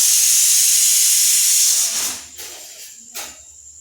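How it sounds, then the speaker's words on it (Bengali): Ghee melting and sizzling in a pan as salt goes in: a loud, steady hiss for about two seconds that then dies down to quieter, intermittent sizzles. "দিয়ে আর দেখুন কত সুন্দর গলছে ঘিটা।"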